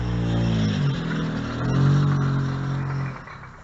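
A car across a street at 4:30 in the morning has its engine running with a steady, loud mid-pitched drone that swells as it revs and accelerates, then settles back.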